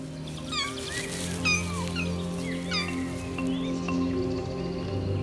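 Two-week-old lynx kittens in a forest den call out with repeated high, thin mewing cries while their mother is away, bursts scattered over a steady low background hum.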